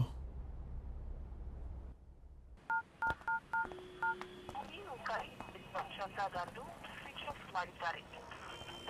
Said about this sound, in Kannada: ಈ ನಿಹಾರಿಕಾ ಫೋನ್ ಸ್ವಿಚ್ ಆಫ್ ಮಾಡ್ಕೊಂಡು ಎಲ್ಲಿಗೆ ಹೋದ್ಲು?